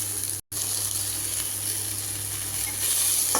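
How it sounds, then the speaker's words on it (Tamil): Tomatoes sauté in a pan for a vallarai keerai (Indian pennywort greens) chutney, giving a steady, close sizzle and hiss that breaks off once and then continues, rising slightly near the end. "அதுக்கப்புறம் தக்காளியும் போட்டு நல்லா வதக்கிக்கலாம்."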